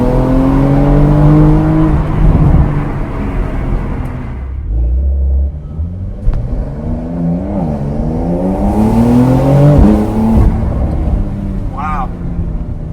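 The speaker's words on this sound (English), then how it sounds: "Let's get a little acceleration run." A 2020 Porsche 911 Carrera 4S Cabriolet (992 generation) accelerating hard, the engine climbing through gears with rising pitch and brief dips at shifts, loud and close, with a voice speaking over parts of the run.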